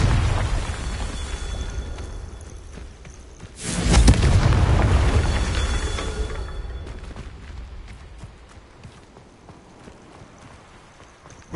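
A Confringo spell explodes in a wizard video game, a sudden loud boom with a rumbling blast that swells, then slowly fades over several seconds into quieter game ambience.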